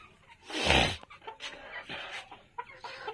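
Fayoumi chickens cluck nearby: one loud squawk, then a run of quieter, irregular clucks.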